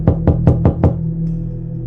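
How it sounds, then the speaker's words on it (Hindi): Five quick, hard knocks on a house door land in an even rhythm, close and loud, followed by a still, low background hum. "यूसुफ अपने घर पहुंचा और उसने अपना घर का दरवाजा खटखटाया।"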